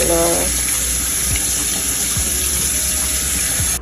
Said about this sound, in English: Now we're going to wash our rice.